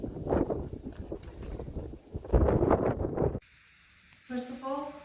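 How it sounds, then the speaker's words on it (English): Gusty wind at a winery in Transylvania buffets the microphone in loud, rumbling bursts, broken by a sudden quiet stretch and a short tonal sound near the end. "It's a really windy day in Transylvania"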